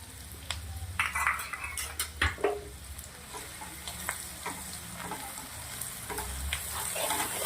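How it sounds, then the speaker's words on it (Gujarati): Spice paste of ground chillies with curry leaves sautés in hot oil over low heat for Rajasthani red yogurt tempering, a steady sizzle broken by clinks and scrapes of a spoon stirring in the pan. "પેસ્ટને સરસ મજાની આવી રીતે તેલના અંદર સાંતળી દેવાની છે"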